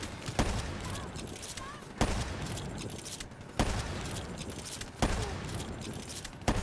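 Call of Duty Black Ops 3 campaign gunfire: five heavy, evenly spaced shots or blasts about every second and a half, each with a rumbling tail over a dense background of battle noise, with faint voices underneath.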